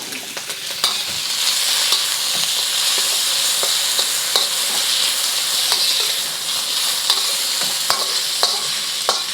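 Char kway teow being stir-fried with chili sauce in a wok, a loud, bright hiss of frying with intermittent clanks and scrapes of the utensil against the metal, unbroken by speech.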